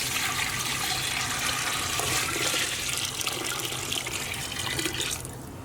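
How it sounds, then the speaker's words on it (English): Cold water from a tap runs steadily into a cooking pot of Persian haleem ingredients, a continuous broadband rush heard close and alone, easing off at the very end. "All we're going to do now is just top this up with some cold water."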